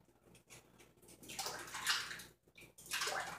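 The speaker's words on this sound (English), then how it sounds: "clean it off in the water." A razor is rinsed in water during shaving, giving two close splashing, sloshing bursts separated by a brief quiet gap.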